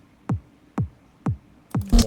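Kick drum layer giving mid body and punch, struck alone three times at an even pace with short tight thumps, fairly quiet, then a fourth hit joined by a brief burst of brighter noise at the end.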